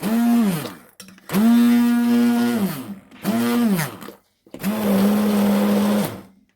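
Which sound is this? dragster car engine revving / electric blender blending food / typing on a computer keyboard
electric blender blending food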